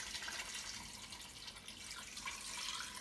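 Filtered water pouring into an Instant Pot pressure cooker inner pot, a faint, steady hissing trickle running without a break and no voices.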